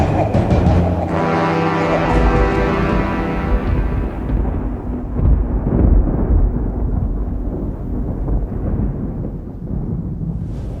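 Thunder crashes in a fantasy-film storm under heavy clouds, a loud, deep rumbling roar that swells early and keeps rolling steadily for several seconds without letting up.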